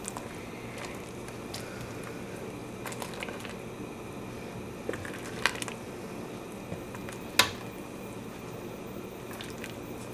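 A milk mixture is stirred in a pot until it separates for chena, with soft wet squishing and faint dripping, quiet and close, broken by a few light clinks of the spoon against the pot.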